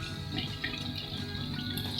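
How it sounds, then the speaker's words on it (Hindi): Water is poured into keema in a cooking pot, giving a steady, soft trickling and splashing that runs unbroken for the whole stretch at low volume, with no voices. "मैं कीमे में पानी डाल रही हूँ"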